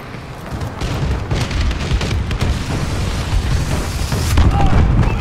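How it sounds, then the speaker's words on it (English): A bombing run in the Call of Duty Advanced Warfare multiplayer mode booms as a loud, continuous rumble of overlapping explosions, building in intensity toward the end and dense with low roar. "Enemy bombing run incoming"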